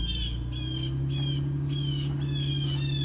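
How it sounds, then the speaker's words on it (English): Birds squawk outdoors in repeated harsh calls, about six evenly spaced cries over a steady low engine-like hum, with no talking. "Don't mind the birds"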